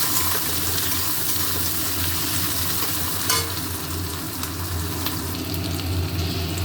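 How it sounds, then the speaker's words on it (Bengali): Onions fry in hot oil in a pan, a steady dense sizzle with occasional stirring scrapes, close and continuous without pause. "পেঁয়াজ ভাজা হয়ে গেছে"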